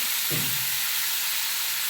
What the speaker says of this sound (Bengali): সবজিগুলো আর আদাটাকে ভালো করে ভেজে নিতে হবে